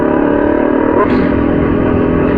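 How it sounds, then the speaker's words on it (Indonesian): Steady, loud motorcycle engine rumble with a continuous exhaust drone, close by, while riding the Gunung Gumitir mountain route, with no breaks or talking. "suara knalpot saya kedengaran kenceng apa gimana ya teman-teman"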